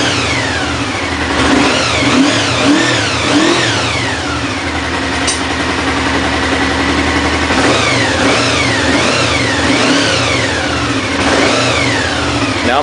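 A restored 1992 Honda VFR750 RC36 motorcycle engine runs close by, revving up and down in repeated rising and falling sweeps between steady idling, loud throughout with no talking.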